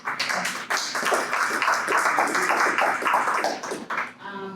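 Dense clapping from a crowd of hands, steady and fairly loud for several seconds, then tapering off near the end.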